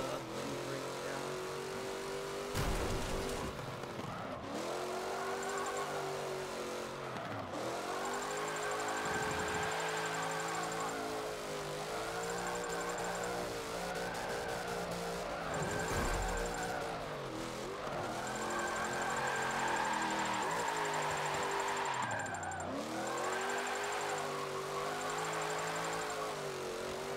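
A race car engine drifting in Forza Motorsport 7 revs and wails continuously, rising and dipping in pitch as the throttle is worked, with steady tire and engine drone throughout and no talk.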